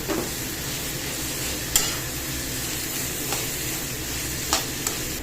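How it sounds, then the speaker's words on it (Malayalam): Pre-fried chicken pieces hiss and crackle in a hot pan with sautéed onions and green chillies, a loud continuous sizzle with a few sharp spatula scrapes and taps, no talking. "വറുത്ത് വെച്ചേക്കുന്ന ചിക്കൻ ഇട്ട് കൊടുക്കാം."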